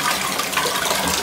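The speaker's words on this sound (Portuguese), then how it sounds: "Tirei e ele vai puxar a descarga automaticamente" An automatic Japanese toilet flushes on its own, a steady loud rush and gush of water that fills the clip without a break and with no talking.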